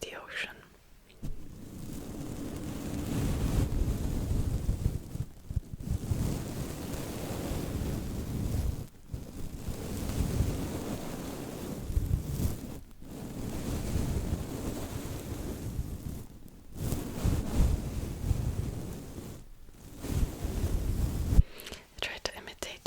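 A makeup brush swept close to the microphone in slow, rolling strokes that imitate ocean waves washing in and out, each swell separated by brief pauses, soft and breathy like a whisper.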